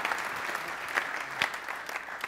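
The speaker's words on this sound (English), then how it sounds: "how about applause?" Scattered audience applause at a small tech presentation, thin and uneven with a few louder claps standing out, fairly quiet and brief.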